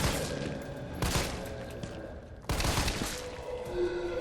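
Gunshots from a handgun in the survival horror game Resident Evil 3, two sharp reports about a second and a half apart, fairly close and reverberant within a dense game soundscape.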